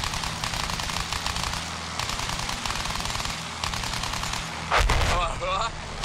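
Rapid, continuous machine gun fire rattles throughout in the video game Battlefield 1, loud and dense, with a heavier burst or explosion near the end.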